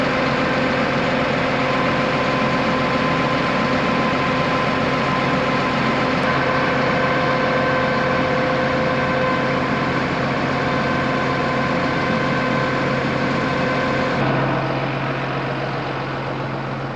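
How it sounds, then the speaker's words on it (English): A tractor's diesel engine idles steadily just after starting while it warms up, a loud, close, even low rumble that holds unchanged throughout with no voices. "We just started the MX-285, gonna let it warm up."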